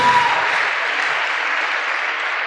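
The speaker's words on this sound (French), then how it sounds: "il faut les acclamer déjà pareil" A church congregation at a sermon by Pastor Marcello Tunasi bursts into loud, dense applause, a continuous wash of many hands clapping that holds steady throughout and slowly eases at the end, with no talking over it.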